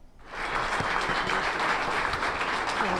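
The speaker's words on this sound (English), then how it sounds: "a sliver of the thunderous applause for a man that we all hold near and dear to our hearts" Loud, dense applause from a large crowd for a retiring TV chief meteorologist swells in quickly and holds steady throughout.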